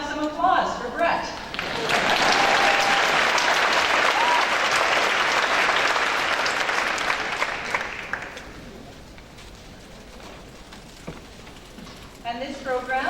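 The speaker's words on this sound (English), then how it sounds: "And we'll now have some applause for Brett." A graduation convocation audience breaks into sustained applause, dense clapping swelling for several seconds, then fading, with a voice speaking before and after.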